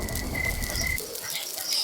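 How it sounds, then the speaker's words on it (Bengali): Rain falls at night as a steady, even hiss of dense drops, moderately loud and close, with a faint high tone running through it. "বৃষ্টি আবার নামলো।"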